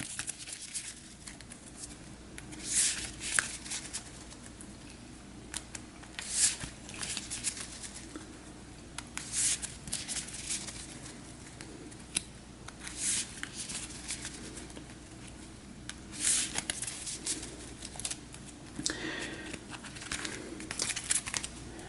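Playing cards for a card game are shuffled near the table, with repeated crisp riffles and snaps in short bursts separated by quieter pauses, fairly faint.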